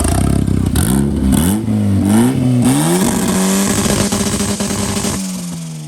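A tuned car engine is held on two-step launch control, letting out a loud, continuous revving roar broken by rapid popping and crackling, with the pitch rising and falling as the revs hover, close up and alone.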